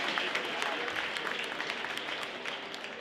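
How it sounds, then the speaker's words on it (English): A crowd claps steadily and densely throughout at a school spring pep rally, an even wash of applause that holds at a constant level without pause. "give them some round of applause, absolutely."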